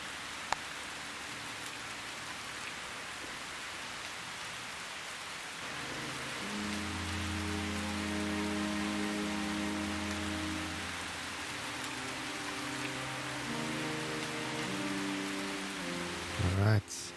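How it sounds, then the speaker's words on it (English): Rain falls steadily in the 1930s European crime-underworld video game Calvino Noir, a soft, even hiss of drops that lasts throughout, while a low, sustained musical score fades in partway and plays underneath. "The rain lashes at the granite ridge, wearing down the old rock."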